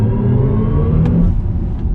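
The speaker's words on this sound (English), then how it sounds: "versus just absolutely flattening the throttle and it comes in full guns blazing like this" A BMW iX M60 electric car's synthetic drive sound at full throttle, a loud, deep droning rumble with sustained low tones, steady and close for the whole stretch.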